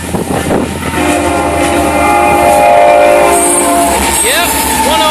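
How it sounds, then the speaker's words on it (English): Florida East Coast Railway locomotive 101 sounds a loud, unusual-sounding horn in sustained blasts as the train passes close by, with rail noise underneath throughout. "A weird sounding horn on that locomotive."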